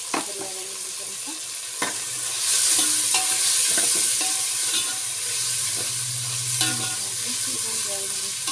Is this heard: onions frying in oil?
yes